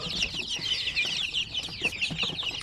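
Native Sampi chickens clucking and chattering in a group nearby, a busy, overlapping stream of clucks and short calls.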